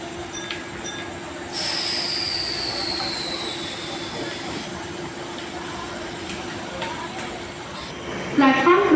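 Mumbai local train accelerating at night, with a steady electric whine and rising rumble of wheels on track, squeals near the end, and a constant tonal hum, heard up close under a voice speaking.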